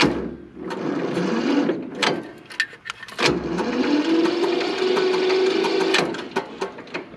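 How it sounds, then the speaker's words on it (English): Tractor engine being cranked over on a farm, a labored whirring starter grinding in two bursts separated by a brief pause, with clicks and clanks around it, close and fairly loud. "So I'm gonna see if I can get it cranked over here."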